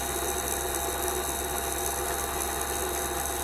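A dynamic balancing machine runs steadily after being switched on, giving a constant mechanical whir with a faint ratcheting texture and a fixed hum, quiet and unchanging, with no voices.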